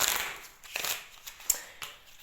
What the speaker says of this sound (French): on va enchaîner sur une guidance médiumnique par tirage d'oracle